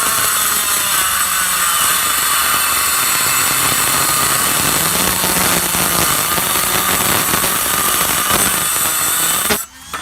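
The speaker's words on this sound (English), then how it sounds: "Let's try it with the dremel." A handheld Dremel rotary tool grinds through hollow metal tubing, copper or aluminium, a loud continuous high whine and rasp held steady for nearly ten seconds before cutting off abruptly at the end.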